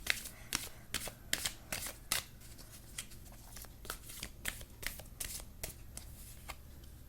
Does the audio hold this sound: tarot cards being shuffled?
yes